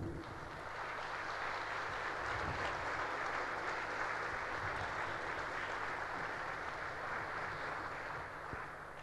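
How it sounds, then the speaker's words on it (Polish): A hall full of people applauds an award laureate, an orchard farm owner, at a regional business prize ceremony, steady dense clapping blending into a continuous wash at moderate level, unbroken for several seconds. "jeszcze raz brawa dla Pana"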